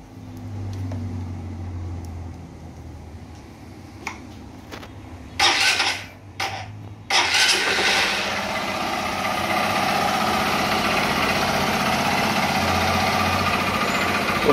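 A repaired Honda Titan 150 motorcycle engine cranks with a few short bursts, catches and settles into a steady, smooth idle, heard up close with no talk over it.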